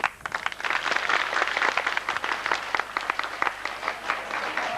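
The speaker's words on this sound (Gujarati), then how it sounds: "આપણે પ્રોત્સાહન આપીએ, તાળીઓ પાડીએ." An audience claps at a primary school prize ceremony, a lively patter of individual hand claps at moderate distance, uneven and sustained, with no speech over it.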